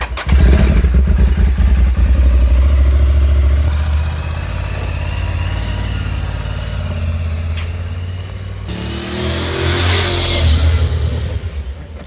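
Loud Aprilia Tuareg motorcycle engine with a misfire, close by, rumbling and revving with throttle swells and a few clattering knocks, fading then surging again near the end.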